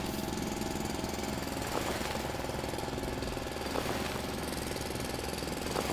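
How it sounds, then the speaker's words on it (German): Drilling into the ground in the factory-building game Foundry: a continuous, rough mechanical grinding drone with a steady rattling texture, loud and unbroken throughout, with no talk. "Dann bohren wir hier nochmal ein bisschen in den Boden."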